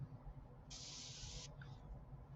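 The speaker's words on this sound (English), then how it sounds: "A little bit of black paint to my airbrush." A single steady airbrush hiss of black paint lasting under a second, fairly close, then a softer brief sputter as it tapers off over a quiet low hum.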